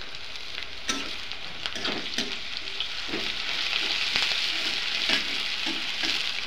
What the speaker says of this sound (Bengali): সবগুলো একসাথে ভাজা করব।